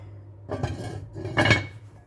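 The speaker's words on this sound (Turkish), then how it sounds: "Şimdi kapağını kapatalım" A lid is set down on a metal pot holding scored sourdough bread dough, giving two short clanks about a second apart, the second louder and ringing, over a low steady hum.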